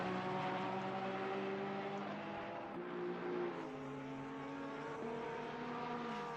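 Race cars roar through the mountain section at Bathurst in Assetto Corsa Competizione, with several engine notes overlapping and rising and falling in pitch, steady and fairly loud throughout.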